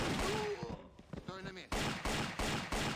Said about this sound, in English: We now get to see the machine pistol in action.